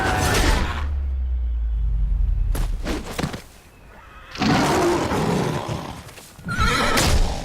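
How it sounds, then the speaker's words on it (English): Horses neighing loudly at close range, several long shrill whinnies separated by pauses, with snorting and rough breathy bursts between calls, no talking. "They're just horses."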